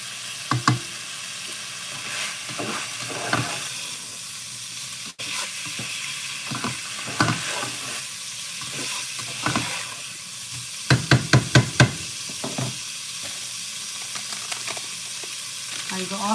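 Black-eyed peas cooking in a pot, a continuous sizzling hiss broken by irregular clanking stirs and a quick cluster of sharp taps near the end, close and without speech.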